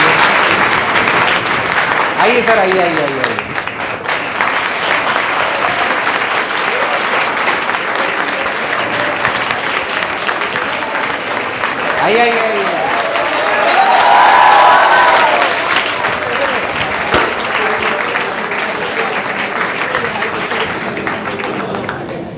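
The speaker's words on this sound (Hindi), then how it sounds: "एक बार तालियां बजा दीजिए अपने सभी।" Sustained audience applause at a NEET coaching event, continuous loud clapping throughout with a speaker talking intermittently over it and a slight swell in intensity partway through.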